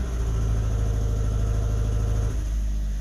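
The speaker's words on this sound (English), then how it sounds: "As soon as I gave it a little bit of gas, it's misfiring." A Fiat engine in gear under light throttle, misfiring from a suspected bad coil pack: a close, loud, uneven low exhaust thrum with a stuttering pulse that shifts and drops partway through.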